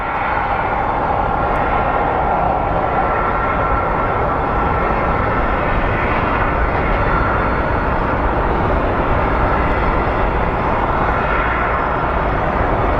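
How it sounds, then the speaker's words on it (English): A CRJ regional jet on approach to land at Phoenix Sky Harbor International Airport, a continuous loud jet engine roar that holds steady and fairly close for the whole stretch. "we have a little CRJ coming in for landing"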